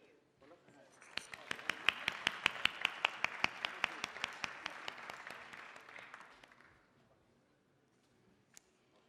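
An audience at a formal opening ceremony breaks into steady applause, many hands clapping at once, swelling quickly and holding for several seconds before fading out, heard fairly distantly in a large hall.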